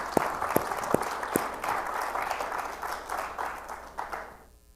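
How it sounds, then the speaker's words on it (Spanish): A church congregation claps for the Lord in a steady rhythmic beat, many hands together in a reverberant hall, fading out at the end. "Dele palmas al Señor si se está gozando"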